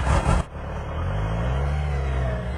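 A Kawasaki-engined Campagna T-Rex starting with a key, a brief sharp burst followed by the engine settling into a loud, close idle that rises into revving.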